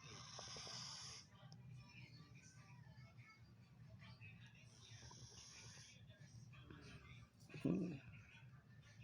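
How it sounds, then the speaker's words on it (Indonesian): A cat sick with the flu snores in a steady, congested rhythm of rough breaths, close and fairly quiet, with one louder snort near the end. "Si Odi ngorok."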